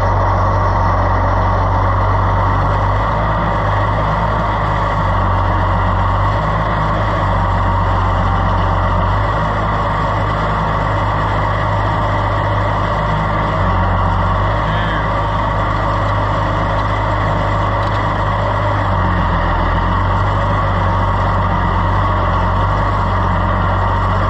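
A gas-powered loader tractor runs in winter cold, its engine idling loudly and steadily up close with a deep low rumble and no change in pace throughout.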